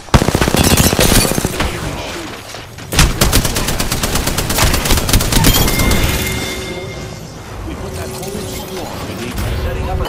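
Sustained rapid gunfire from a weapon in Apex Legends rattles loud and close in dense automatic bursts, with a brief pause before firing resumes over game effects and some voice chatter.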